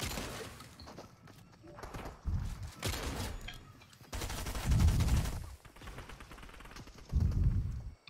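Bursts of gunfire in Fortnite, several separate volleys of shots with loud bass-heavy impacts spaced across the clip, mixed with a voice talking between them.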